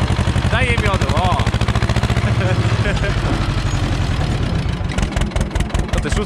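A John Deere 2140 tractor engine runs loud and close, its diesel throb rising as it is revved, with people talking over the steady mechanical pulse.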